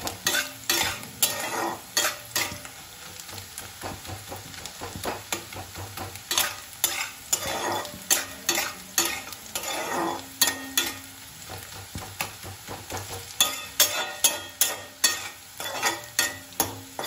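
Sliced onions fry in a pan for a Bengali fish and eggplant dish, a steady sizzle broken by repeated scraping and clinking strokes of a spatula or spoon stirring against the pan, close and without voices.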